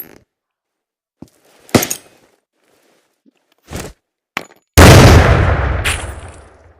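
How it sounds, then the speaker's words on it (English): A frag grenade detonates in the video game Into The Radius, preceded by a few sharp isolated clicks and thuds, then a loud close blast that rolls off into a long decaying rumble. "That was a good explosion."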